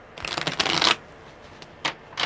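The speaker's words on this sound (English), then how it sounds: "It's got to be a thorough shuffle" Tarot cards riffled and shuffled in two bursts, a long crisp flutter followed by a brief second riffle after a pause, close and fairly loud.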